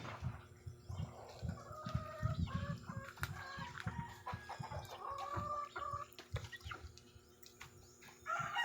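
Gamecocks (fighting roosters) cluck and chatter in short, scattered calls over a low, steady background hum, moderately close and fairly quiet, with no talk.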